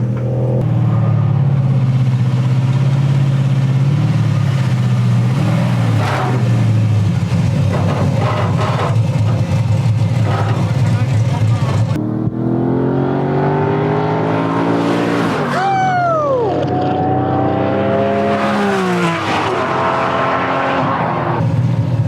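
Camaro GT4.R race car at Chuckwalla revving hard, a loud steady engine roar near the listener that climbs and falls through sharp rising and falling pitch sweeps in its second half.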